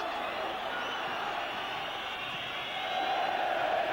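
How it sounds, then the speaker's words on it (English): Large football crowd at a 1986 West Ham United versus Everton league match, a sustained roaring and whistling wall of voices from the stands, distant and continuous, swelling slightly toward the end. "Crowd encouraging the referee to blow the final whistle"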